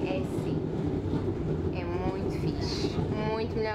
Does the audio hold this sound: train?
yes